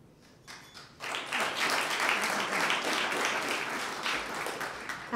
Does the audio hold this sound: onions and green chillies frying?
no